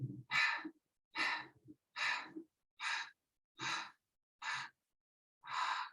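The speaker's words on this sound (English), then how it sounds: "use that breath of fire" Rapid yoga breath-of-fire exercise: seven sharp, forceful breaths pulsed in a steady rhythm over about six seconds, close and clear, with no talking.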